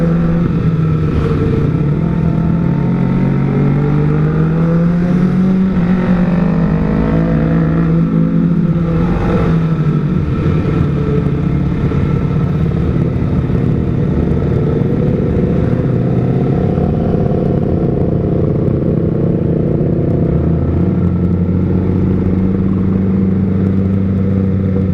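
Kawasaki ZX25R motorcycle engine fitted with an R9 Zeta exhaust, idling and blipping in stopped traffic at a red light, a steady loud rumble with rising and falling rev swells and nearby vehicle noise, no talking.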